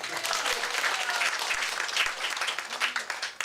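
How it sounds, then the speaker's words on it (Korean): A church congregation at a Sunday service breaks into a dense burst of applause, many hands clapping loudly together without pause for the whole moment. "그래, 박수."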